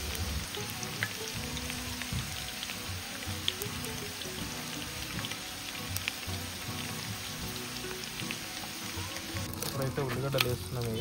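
Curry leaves and green chillies sizzle steadily in hot oil in a village kitchen, a dense continuous crackle with scattered pops and some stirring noise near the end.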